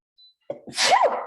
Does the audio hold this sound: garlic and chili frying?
no